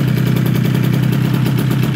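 A 70cc water-cooled Gilera, Aprilia or Piaggio moped two-stroke with a Stage 6 racing kit, freshly run in on 4% premix, runs steadily close by with a fast, even buzzing putter and no talk.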